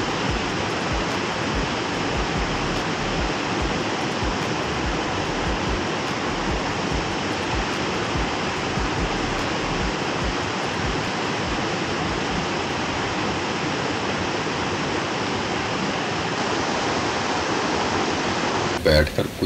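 Steady, dense roar of rushing water from waterfalls on three sides at Blaen Y Glyn fills the whole clip, broad and unbroken like a close waterfall, with no pauses or distinct events.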